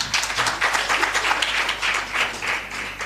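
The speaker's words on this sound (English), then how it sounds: "Can we give him another round of applause?" An audience applauds at a panel session during the launch of a public contract monitoring initiative: a few seconds of lively, uneven clapping that is fairly close and loud, with no speech on top.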